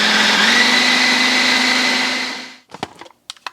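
A blender whirs steadily and loudly for over two seconds while mixing honey for a blueberry liver pate, then winds down and stops, followed by a few knocks and clunks.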